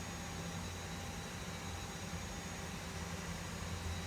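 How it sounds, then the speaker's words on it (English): Steady, dense roar of CFM jet engines on an airliner in the Prepar3D flight simulator, a constant broadband whine and rumble with no breaks. "CFM engines. I'll turn the volume up so you can hear it."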